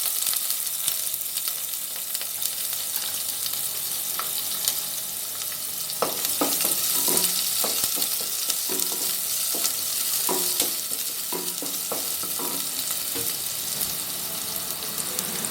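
Chopped small onions fry in oil with mustard seeds for Chettinad mango pachadi: a constant close hiss of sizzling, joined midway by a string of spatula scrapes and taps.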